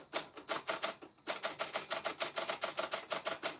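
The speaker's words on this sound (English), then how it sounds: "this is my typewriter." A typewriter is handled, giving a quick, regular series of sharp mechanical clacks, close and crisp, with a brief pause before the rapid rhythm resumes.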